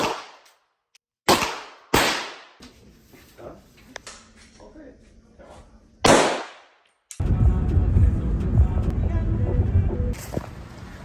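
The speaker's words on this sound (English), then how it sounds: "we got to shoot 5 rounds of a Glock" Glock pistol fired at a shooting range, sharp loud reports that ring and decay, spaced irregularly over several seconds, followed by a stretch of dense noisy background and one more distant crack.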